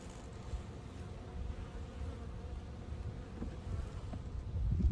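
Honeybees buzz inside a hive opened in early February before an oxalic acid fumigation, a low steady hum that grows slightly louder toward the end, with no voices.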